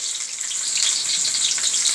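Onion and garlic fry in a pan for a sambal goreng, giving a steady, close, dense sizzle that holds evenly throughout with no voices.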